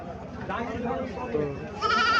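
Black Bengal goats with kids at a village market in Barura, Comilla, bleat, with one clear, close bleat near the end. Several people talk over the market noise throughout.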